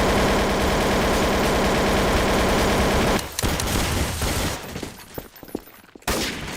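Sustained automatic gunfire in a first-person shooter game rattles loudly and continuously, then breaks into scattered sharp shots and clicks before another loud burst.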